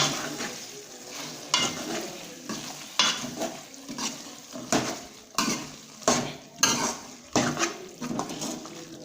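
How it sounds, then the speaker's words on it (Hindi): Chicken pieces for karahi frying over high heat, a steady sizzle broken by regular scraping stirs of a spoon against the metal pan, close and fairly loud with no talking. "अभी गोश्त को अच्छे तरीके से भूनेंगे तेज़ आंच पर"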